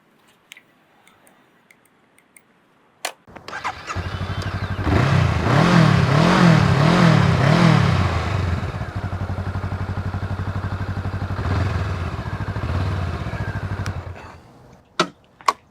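Stock-exhaust Honda Rebel 500 motorcycle engine cranks, fires up and settles into a loud, close idle with a few throttle blips, then shuts off, with clicks before and after.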